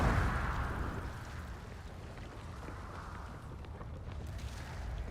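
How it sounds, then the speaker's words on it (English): Deep, continuous rumbling roar from the blue explosions in the space-exploration video game Outer Wilds, loud and steady for the whole stretch, with no one talking over it. "Is that the blue explosions again?"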